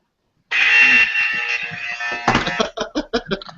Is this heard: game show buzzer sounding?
yes